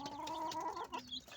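A hen clucking close by, a short tonal call that holds steady and then drops away, heard alone without talk.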